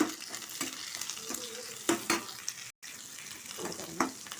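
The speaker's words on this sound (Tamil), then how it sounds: "2 நிமிஷம் நல்லா வதங்கட்டும்" Dried chilli, crushed garlic, green chilli and curry leaves sautéing in a pan for sambar, with a close, crackly sizzle broken by repeated stirring scrapes and one brief dropout.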